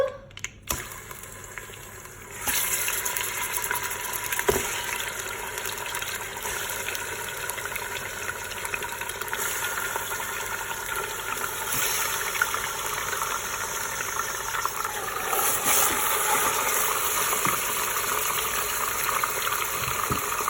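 Meat sizzles and spits in hot oil inside a Cookeo pot, a steady loud hiss that starts after a brief quieter moment and carries on evenly throughout with a few small clicks.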